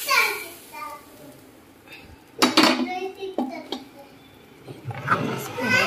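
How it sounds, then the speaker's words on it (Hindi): Metal clanks and knocks as a heavy pressure cooker is moved and handled, with a voice speaking in between. "बाप रे बहुत ही भारी कुकर है।"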